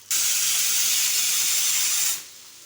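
Fish fries in a pan on a gas stove, a close, loud, steady hiss that starts abruptly, holds for about two seconds, then fades away, with no talking.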